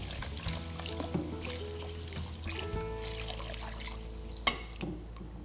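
Water poured over uncooked rice to wash it in a restaurant kitchen, a steady trickling pour with soft splashes and a sharp clink near the end, no talking.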